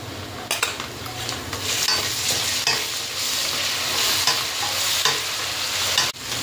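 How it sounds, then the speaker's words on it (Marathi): Ginger garlic paste with star anise, cardamom and spices sautéing in a pot for veg biryani: a steady, close sizzle with frequent scraping stirs of a spoon against the metal, continuous and fairly loud. "आलं लसूण पेस्ट टाकून छान परतून घ्यायचं आहे"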